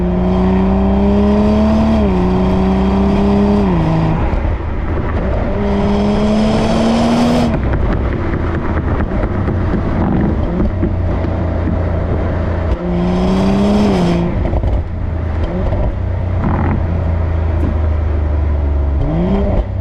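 The B58 engine of a BMW Z4 M40i revs repeatedly, its tone climbing and dropping in several rising sweeps, interleaved with steady driving roar and smooth throttle blips, loud and close throughout.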